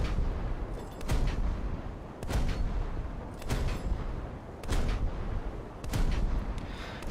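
Naval guns in a video game fire continuously at an SKR ship: heavy booming shots come roughly every second, loud and close, over a constant rumbling battle background.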